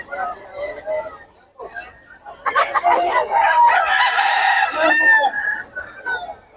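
A rooster crows loudly and close, with clucking chickens around it and people talking underneath, at a poultry sellers' market in Bocaue.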